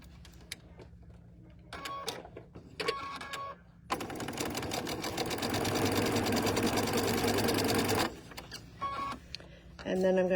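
A sewing machine runs a quarter-inch seam joining a small quilt four-patch, a steady dense whir lasting about four seconds between short bursts of stitching and bits of talk.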